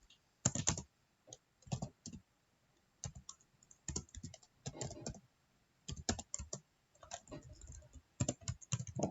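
Keys clatter on a computer keyboard at close range in irregular bursts of rapid clicks with short pauses between words, and no voice is heard.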